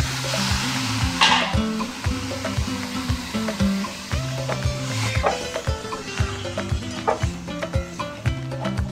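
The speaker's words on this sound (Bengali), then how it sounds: "এবার এটাকে একটু ভেজে নেব।" Steady sizzling and frying of spices in a pan for a taro-leaf and prawn dish, with scraping and stirring clatter throughout, fairly close and continuous.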